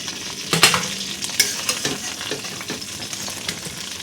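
Rohu fish pieces frying in hot oil in a home kitchen, a soft steady sizzle broken by a few louder scraping stirs and clatters of a spatula, fairly quiet and close, with no talking.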